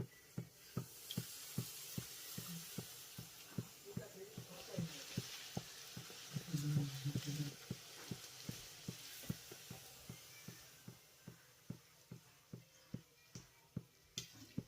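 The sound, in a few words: luchi frying in hot oil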